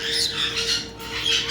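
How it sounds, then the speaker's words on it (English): A pet bird gives harsh, scratchy squawks in quick repeated bursts, loud and close, over a steady faint hum in the room. "You're a happy little bird."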